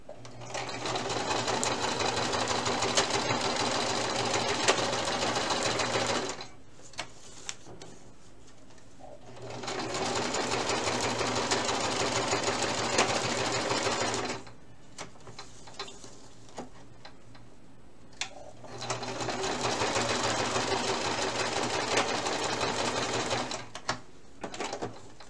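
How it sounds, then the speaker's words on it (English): A sewing machine stitches a candy wrapper pouch, running in three long steady bursts separated by short pauses, close and fairly loud with no talking. "then I backstitched, and I went forward again, and then forward, back, forward, forward, back, forward"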